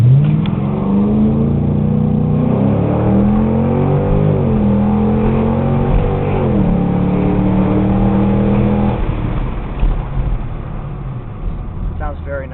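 A 2005 Ford Mustang GT fitted with a Borla catback exhaust revs loudly from inside the car, its V8 note rising and falling in several sweeping pulls before settling toward idle.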